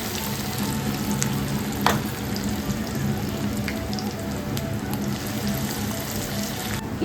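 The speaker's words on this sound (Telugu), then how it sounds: "ఆయిల్లో వేసి వేయించుకోవాలి." Pieces of elephant foot yam deep-fry in hot oil with a steady, dense sizzle and bubbling that holds level throughout, with a few faint clinks over it.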